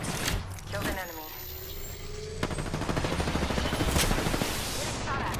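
Gunfire in Apex Legends, with sharp shots and bursts over busy game sounds, and voices talking throughout.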